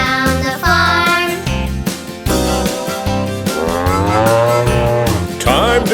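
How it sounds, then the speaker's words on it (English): A cartoon milk cow on a farm moos in long, drawn-out, wavering calls, loud and up front over bouncy children's music with a steady thumping beat. "The old milk cow goes moo, moo, moo."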